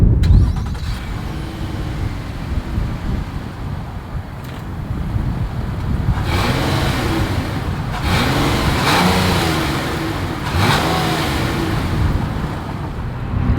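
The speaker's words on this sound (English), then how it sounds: "As always, here is that exhaust clip." A 2022 Nissan Murano's exhaust idles with a low rumble, then revs up several times in quick bursts, loud and close, each rise falling back to idle.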